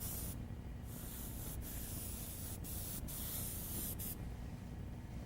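An airbrush sprays a coat of gray paint on an animal artwork in a steady, close hiss, broken by a few short pauses where the spray briefly cuts off.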